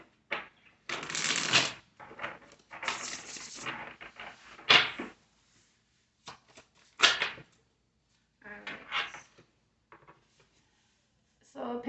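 Tarot cards being shuffled by hand in repeated quick riffling bursts with short pauses between, close and crisp, and no talking over them.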